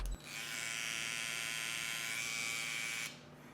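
A Babyliss Pro FX3 hair trimmer runs on its own for about three seconds, a close, steady buzzing hum that switches on and cuts off cleanly.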